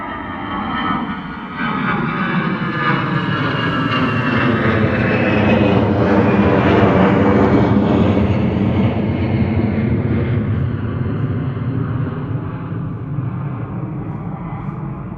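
A TAP Express Embraer E195 jet airliner lands at London Gatwick, its engines a loud, broad roar that swells and slowly passes close by, steady for the whole stretch.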